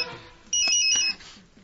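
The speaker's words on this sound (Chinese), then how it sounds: "这天晚上，被拘押的刘彩虹的手机响" A mobile phone rings in a Chinese radio crime drama, a short electronic trilling chime of two quick bursts, moderately loud against a quiet background.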